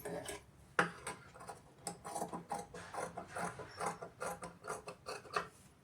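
Scissors snipping diagonally through blouse fabric after stitching, with a run of soft, close, crisp cuts and small clicks in an uneven rhythm, quiet and without talk.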